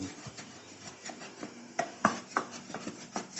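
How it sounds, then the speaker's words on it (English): Onion with pumpkin and garlic being rubbed off the base of an oiled pan, a dry scraping rasp with a few sharper knocks, close and unaccompanied by speech. "removing it so it won't burn by rubbing and lowering the temp."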